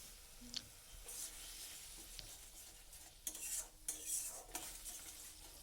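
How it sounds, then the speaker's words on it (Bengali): Spices being stirred and fried with cauliflower and peas in a pan: a steady low sizzle runs under scraping spoon strokes and occasional metallic clinks against the pot, close by, with no talking. "মটরশুঁটিটা দিয়ে এটাকে একটু কষিয়ে নেব।"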